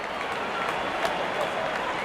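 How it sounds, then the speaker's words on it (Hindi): Cricket crowd at an India vs Australia Test match applauding a batsman's fifty: steady, dense clapping from a large stadium audience, continuous and even throughout, with no voices standing out. "दर्शक इस 50 रन को अपने तालियों से सराहते हुए"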